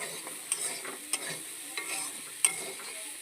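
Khesari lentils sizzle in a hot pan while being stirred, a steady bright hiss punctuated by several crisp scraping strokes of a spatula, close up and fairly quiet.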